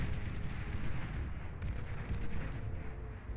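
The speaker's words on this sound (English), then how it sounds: "Destroyers trying to take out those coastal torpedo launchers." Rumbling booms and blasts from destroyers shelling coastal torpedo launchers in a naval strategy video game, a low, continuous barrage of overlapping explosions heard at moderate volume.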